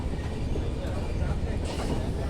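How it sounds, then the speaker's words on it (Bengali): A train pulls away from Bir Sreshtha Sirajul Islam railway station in Panchagarh, Bangladesh, bound for Rajshahi, giving a steady, close rumble of rolling stock with faint clatter throughout. "এটা পঞ্চগড় বি শ্রেষ্ঠ সিরাজুল ইসলাম রেল স্টেশন থেকে ছেড়ে রাজশাহী যায়"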